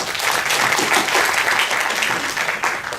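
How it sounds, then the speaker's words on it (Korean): Audience applause at a school education forum, steady dense clapping filling the whole stretch, close and fairly loud with no voices over it. "박수 부탁드리겠습니다"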